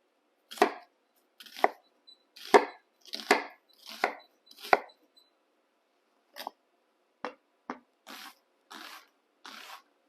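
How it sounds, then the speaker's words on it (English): Knife dicing half a large onion on a cutting board, a series of about eleven sharp close chops, quick bursts at first, then sparser taps after a brief pause. "Next up is dicing up a small onion."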